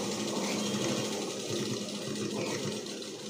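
A sewing machine stitches chudidar pants in a steady, continuous mechanical whir with a fast even rhythm, running close and loud from start to finish with no talk over it.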